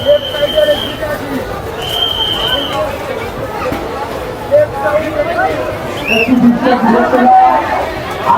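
A dense crowd inside a Durga Puja pandal at Kalyani ITI More, a steady babble of many voices close by, with whistles and scattered louder calls rising through it.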